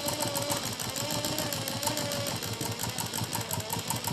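A sewing machine stitches fabric in a steady, continuous run, giving a fast rhythmic mechanical whir at moderate loudness throughout with no pauses and no talking.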